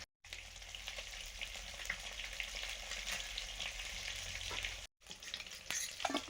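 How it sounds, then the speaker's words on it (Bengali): Fish fries in hot oil in a pan, a loud, continuous close sizzle and crackle that cuts out briefly twice, with no talk over it. "মাছ ভাজা হয়ে গেছে"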